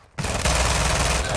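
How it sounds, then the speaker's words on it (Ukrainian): Dense, rapid gunfire from Call of Duty: Modern Warfare II Warzone 2.0 DMZ erupts suddenly and continues loudly, a sustained burst of automatic shots. "Наче по мені хтось стріляє."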